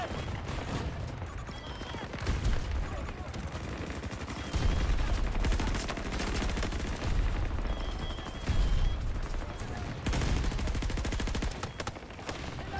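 Sustained automatic gunfire from the shooter Battlefield 2042 in a multiplayer match, with rapid bursts and overlapping rifle shots rising and falling over nearly thirteen seconds.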